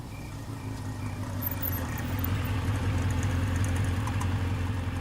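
An auto rickshaw engine idles steadily at close range on a cold street, with a low, continuous rumble and faint rattling. There is no talk over it.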